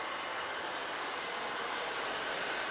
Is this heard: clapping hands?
no